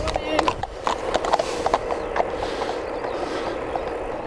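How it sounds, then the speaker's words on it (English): A horse trots past on a road, its hooves striking in a quick, uneven clip-clop rhythm, fairly close and clear for a few seconds before fading slightly. "yes, I like a horse trotting by, why not?"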